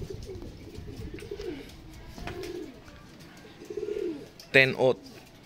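A racing pigeon hen arrives at the loft as pigeons coo softly in low bursts. Quieter background rustle runs under it, and a couple of sharper calls come near the end.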